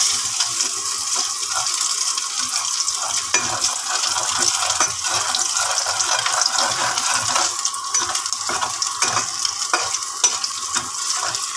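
Garlic hits hot oil that already holds black cumin seeds and sizzles, a dense, steady frying hiss broken by stirring scrapes, close and continuous with no talking.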